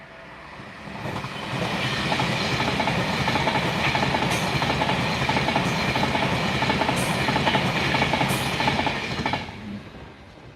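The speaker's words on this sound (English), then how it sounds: "approaching is an Avanti West Coast Pendolino going to London, Euston" An Avanti West Coast Pendolino bound for London Euston rolls past at close range, a loud steady roar with rhythmic wheel clatter building after the first second, holding for about eight seconds, then fading abruptly near the end.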